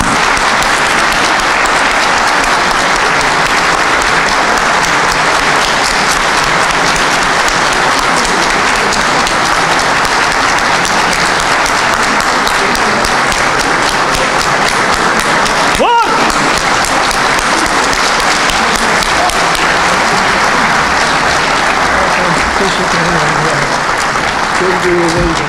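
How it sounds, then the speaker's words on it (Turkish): Sustained, dense applause from a large audience of members at a football club's ordinary congress, steady and loud throughout with a brief dip midway. "Ve siz değerli üyeleri bir dakika boyunca hem Hasan Şengel'i hem Gençler Birliği'ni alkışlamaya davet ediyorum."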